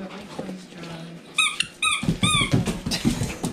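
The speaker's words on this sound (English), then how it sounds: "Squeak, squeak, get the ball! Get the ball, clean dog!" A dog plays with a squeaky ball toy after a bath, with a few sharp rubbery squeaks and some dog noises, while a person talks excitedly over the play.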